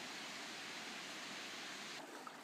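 A mining-area river rushes steadily as broadband, even noise, moderately loud and close, with no voices.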